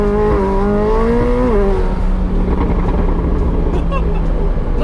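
McLaren 720S accelerating at a half-mile racing event, a loud in-car engine howl climbing in pitch, dropping at a shift, then carrying on as a steady roar with wind and road noise.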